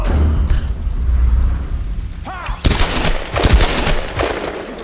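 Gunfire rattles in the Tomb Raider game, loud bursts of rapid shots and sharp cracks layered over a low rumble, with repeated volleys growing denser toward the end and no talk.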